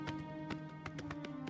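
A horse gallops in the video game Oblivion Remaster, steady hoofbeats thudding in rhythm over a constant bed of game music and ambience.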